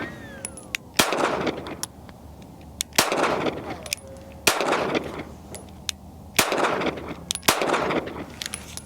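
A Smith & Wesson Body Guard 2.0 pocket pistol fires several sharp, loud shots a second or two apart outdoors. Faint metallic pings from steel targets sound between the shots.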